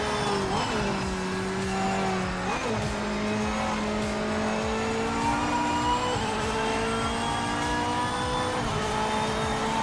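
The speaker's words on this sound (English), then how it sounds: "That's literally just letting out of the throttle with the factory settings." A GT3 race car in the Project Motor Racing game lifts off the throttle; loud, steady engine tones sag and fall in pitch over several seconds, with brief dips and swells as revs drop, heard alone without talk.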